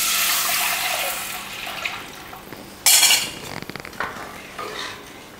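A spoon stirs buttermilk curry with asafoetida and Kashmiri chilli powder in a hot clay pot, making scraping, clinking strokes over a soft hiss, with a louder scrape burst near the middle and no talking.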